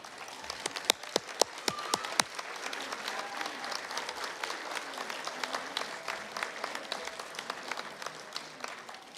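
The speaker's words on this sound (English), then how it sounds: "join in a heartfelt round of applause to everyone that supported you along this journey" A graduation ceremony crowd of graduates and guests gives a sustained round of applause, with a few sharp, close claps standing out early before the clapping settles into an even wash.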